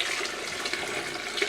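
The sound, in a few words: pouring hot water from a pot into soup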